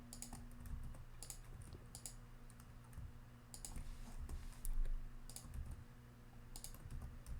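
Computer keyboard typing while code is being deleted, quiet clusters of sharp key clicks and repeated presses spread across the stretch over a low steady hum.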